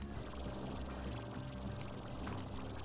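Water sprays in a steady, continuous hiss in the video game Slime Rancher, filling the short stretch evenly without pauses.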